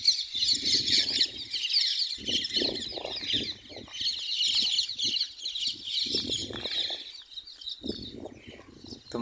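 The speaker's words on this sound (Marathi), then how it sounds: "पक्ष्यांचा आवाज येतोय." Chickens cluck and squawk in a rural village, with bright birdsong chirping steadily over them and a brief flutter of wings, all fairly close and continuous with no talk.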